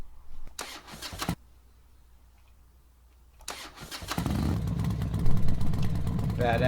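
Used motorcycle engine cranked by the starter in two short bursts, then catching and settling into a loud, rumbling idle close by, with a brief voice over the engine.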